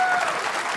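Audience applause breaks out after a pot at the Snooker World Championship, a dense, steady wash of clapping filling the whole moment at close range.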